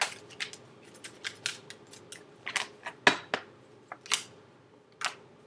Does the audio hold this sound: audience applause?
no